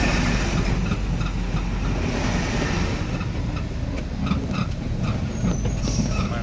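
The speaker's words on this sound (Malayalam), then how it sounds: "എതിർവശത്തുനിന്നും വണ്ടിയെല്ലാം വന്നുകൊണ്ടുണ്ട് കേട്ടോ." Vehicles pass on a narrow village road lined with tamarind trees, heard from inside a moving vehicle. Engine roar and road rumble are steady and loud throughout, with brief higher whooshes as oncoming traffic goes by, and no talk.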